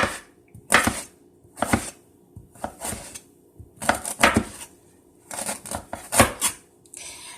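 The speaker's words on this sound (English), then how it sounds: "I am going to chop the ginger" Fresh ginger is chopped with a knife on a cutting board, about eight sharp, close thuds in uneven bursts separated by brief quiet gaps.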